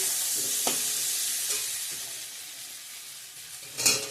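Fried potatoes with tomatoes just added sizzle steadily in a pan, with a few soft stirring scrapes and a louder burst of frying near the end.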